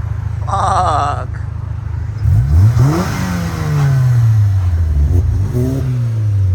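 A car engine revs up hard through rising pitch sweeps as VTEC engages, loud and close with repeated climbing whines and gear changes, an interior takeoff run with no talk over it.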